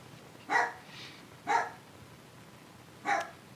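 Dogs bark three separate times at a moderate distance, each bark short and clear, with quiet gaps between.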